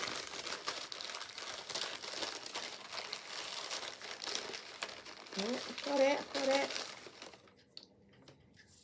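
Paper crinkles and tears as an advent calendar gift is unwrapped, a steady rustle running under nearby talk before it stops abruptly near the end.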